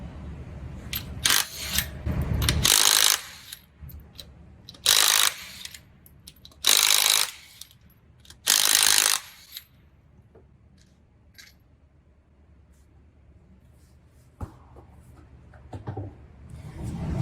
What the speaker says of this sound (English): Remove the front driver's side wheel to access the transaxle fill plug.